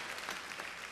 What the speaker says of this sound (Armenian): Ծափարություններ, երուսաղեմցիներ, ծափարություններ